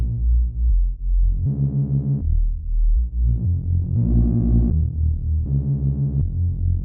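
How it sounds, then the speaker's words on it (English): A deep synth bass using a saturated sine waveform plays a stepping sequence of smooth, slightly saturated tones, each note held briefly before shifting pitch, with no other instruments. "this parabole is like a sine, but not quite a sine. It's like a saturated sine."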